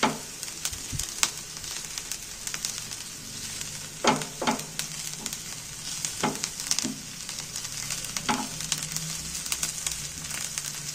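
Onions and carrots fry in a pan while being stirred, a steady sizzle broken by repeated scraping strokes of the spoon, close and fairly loud with no talking.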